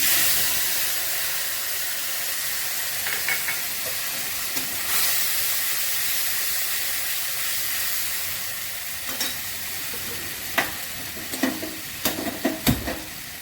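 Ground spices hiss steadily in hot oil, a constant close sizzle broken near the end by a few sharp scraping clicks of stirring.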